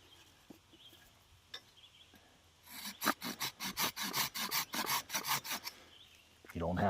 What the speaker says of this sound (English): push down on your surface and angle your saw perpendicular to the ground.